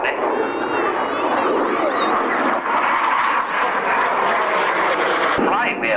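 Military aeroplane engine droning steadily overhead at a 1997 airshow at the Shuttleworth Collection, Old Warden, loud and continuous for the whole stretch, with a commentator speaking over it.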